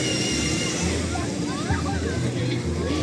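Ocean waves wash and slosh onto a beach in a continuous roar, with voices chattering nearby under the surf.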